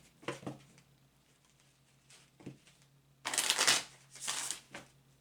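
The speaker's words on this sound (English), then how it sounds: "it's the sound of the cards being shuffled" Cards shuffled on a table: soft riffling bursts, then a louder, longer riffle and a second shorter one, close and quiet with no talking.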